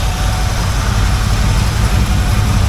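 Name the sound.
1980 Camaro Z28 engine running and idling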